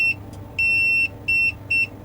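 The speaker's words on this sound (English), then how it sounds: "Our digital tester will make a beep sound" A digital tester in continuity mode beeps four times while checking a Bose portable home speaker, sharp high electronic tones of uneven length with short gaps, close and clear.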